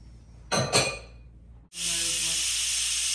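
A pressure cooker holding a beef roast releases a steady, loud hiss of steam that runs unbroken after a brief clatter and pause near the start.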